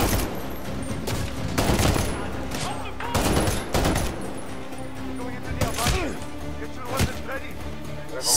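Gunfire from the Medal of Honor Warfighter video game: repeated bursts of shots and loud impacts, with a volley at about 1.7 s and more around 3.3, 6 and 7 s, over steady game ambience with a voice talking.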